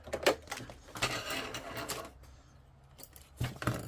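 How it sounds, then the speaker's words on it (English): A sewing machine stitching paper signatures for a handmade journal runs in short rhythmic bursts of mechanical clatter, close and moderately loud, with brief pauses between runs. "Right, thank you, sewing machine."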